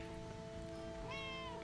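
One cat gives a clear, drawn-out meow near the end, rising over a steady hum of game background sound in the open-world delivery game Lake Shipping Delivery Packages.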